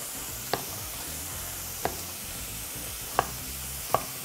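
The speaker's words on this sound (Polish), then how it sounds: "Boczek wrzucamy, wytapiamy tłuszcz" Bacon rendering its fat in a frying pan gives a steady, close broadband sizzle, broken by four sharp clicks of a utensil against the pan spaced unevenly through the clip; no one speaks.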